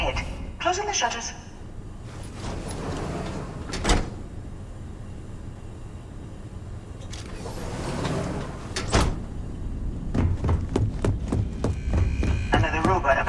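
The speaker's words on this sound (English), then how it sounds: "Closing the shutters." Metal shutters closing in Starfield, a sliding, rattling mechanical sweep in the middle followed by a clunk, with a spoken voice over a low ambient hum and sharp clicks toward the end.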